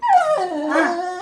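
A Doberman dog injured by a bite to the ear cries and whimpers in pain: a loud, close, continuous wavering howl-like whine that rises, dips and trails off over about a second, with no talk.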